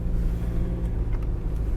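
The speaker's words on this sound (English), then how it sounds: "Cars are running here with construction workers." Cars rolling past a construction-site parking area early in the morning, a loud continuous low engine and tyre rumble close by with no voices.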